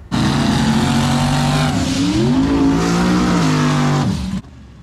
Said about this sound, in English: Billy was seventh pair down in the left-hand lane, and he was paired up with this little Mustang out of Detroit, Michigan.